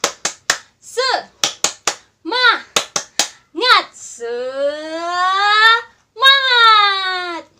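Children at a church Sunday school do a rhythmic spirit clap, sharp claps in quick sets mixed with chanted children's voices, then a long drawn-out shouted cheer closing the routine.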